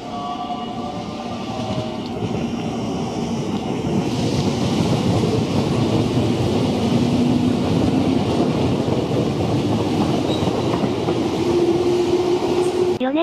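Tobu Tojo Line train 998 running toward Ikebukuro, a continuous loud rolling rumble with wheel and track noise and faint tonal whines from the motors, heard from the front of the train.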